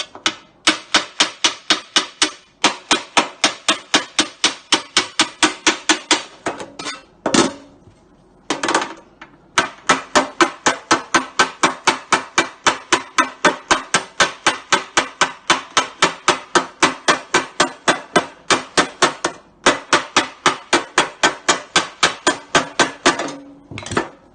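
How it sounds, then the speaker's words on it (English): Rapid, steady metallic tapping of a small hammer tapping out dents, hundreds of quick strikes in long runs with a few short pauses, close and loud. "Basically, switch to a smaller hammer."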